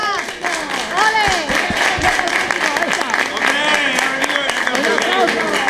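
A studio audience claps and cheers for Pepe, a violinist, on a television variety show, with loud, dense applause and excited voices and shouts mixed through it.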